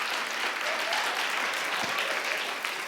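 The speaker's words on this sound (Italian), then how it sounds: "Una persona sola applaude" A stand-up comedy audience claps in a steady, moderately loud round of applause, heard at some distance and holding evenly for a few seconds.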